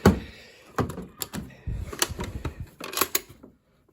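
A storage drawer in a home movie collection is pulled open, giving a run of wooden knocks, clunks and sliding thuds over a few seconds, close and fairly loud, then silence.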